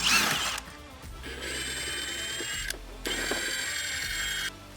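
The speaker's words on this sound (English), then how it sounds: "You're gonna wanna get a T40 Torx and remove these." A T40 Torx driver loosens inner fender bolts on a Polaris Xpedition UTV, giving two sustained rapid ratcheting clicks of about a second and a half each, close and fairly loud, with a short clunk between them.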